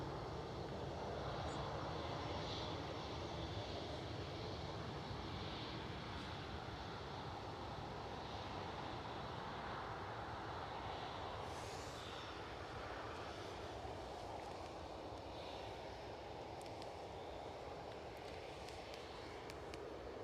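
A rent-a-jet aircraft inbound to land at Newcastle International produces a steady, broadband engine roar that stays fairly loud and continuous throughout, with no talking.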